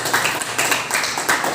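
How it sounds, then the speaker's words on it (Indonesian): Applause from a gathered audience at a community meeting, a short burst of dense, scattered clapping heard fairly loud throughout. "Tepuk tangan dulu."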